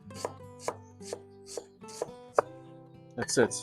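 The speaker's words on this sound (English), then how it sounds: "this is a baby cabbage, half a baby cabbage. So just give it a chop like that." A knife chops through half a baby cabbage on a cutting board, six or seven crisp, evenly spaced strokes ending in a quicker flurry, close and clear, with a brief spoken word near the end.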